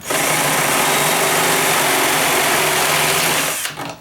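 A power drill runs loud and steady at high speed for several seconds, then winds down and stops.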